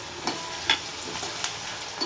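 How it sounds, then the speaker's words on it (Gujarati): Chopped onion and asafoetida frying in a pan for a Gujarati fenugreek-greens dish, with a steady sizzle broken by several distinct scraping stirs of a spoon against the pan. "થોડીક ડુંગળી સુધારેલી નાખશું। થોડીક હિંગ નાખશું। થોડી વાર એને આપણે હલાવશું"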